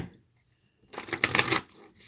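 Playing cards shuffled once in a quick riffle, a short burst of close, crisp fluttering clicks after a near-silent pause, fading out at the end.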